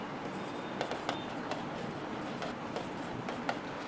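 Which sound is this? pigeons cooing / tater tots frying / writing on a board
writing on a board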